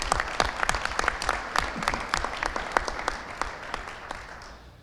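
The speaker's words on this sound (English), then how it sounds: "A round of applause, please, for my parents." A seated audience at a town inauguration ceremony gives a sustained round of applause, many hands clapping densely and steadily for about five seconds before tapering slightly, with no talk over it.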